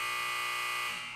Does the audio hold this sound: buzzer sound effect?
yes